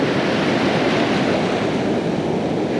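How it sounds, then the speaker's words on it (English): Ocean surf rolling in over a sandbar, a loud, close, continuous wash of breaking water with wind buffeting, no talk. "Let this set of waves roll."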